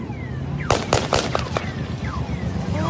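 Gunshots ring out during a cash-in-transit heist in Cape Town: several sharp, loud cracks in a quick irregular cluster, with distant voices and street noise around them.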